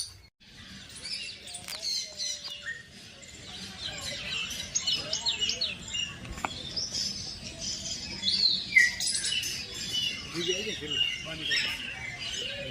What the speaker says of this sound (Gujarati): એકદમ બ્લેક કલરના પોપટ છે, આપ જોઈ શકો છો. જમવા માટે પડાપડી કરી રહ્યા છે.